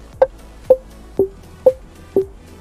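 A car alarm set to its 'science' tone gives six short, sharp electronic chirps about half a second apart. They are loud and close, with no voices.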